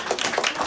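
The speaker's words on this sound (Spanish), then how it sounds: "¡Aplauso para él!" Brief applause from a small audience at a children's clown show in Newark, New Jersey, greeting a young volunteer being turned into a magician; a short burst of moderate clapping, fairly near, with no talk over it.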